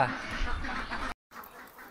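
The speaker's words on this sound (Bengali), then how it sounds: "রবিউল ভাইয়ের পাতি হাঁসের খামার" Muscovy ducks quack briefly beneath a talking voice on a duck farm, which cuts off abruptly before a quieter tail of sound.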